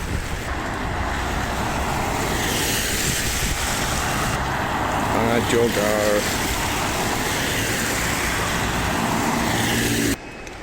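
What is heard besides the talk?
street traffic with bus, truck and digger in Glasgow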